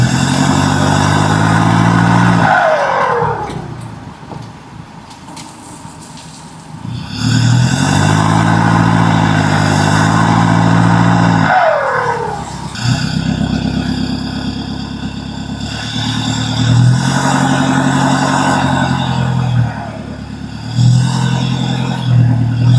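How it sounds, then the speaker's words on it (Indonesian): Yellow and orange trucks drive slowly along a narrow tree-lined road, their engines droning and revving in long swells, loud and close, with brief drops between passes. "Truk kuning dan truk oranye pun terus melaju hati-hati sambil menghadapi setiap rintangan di depan."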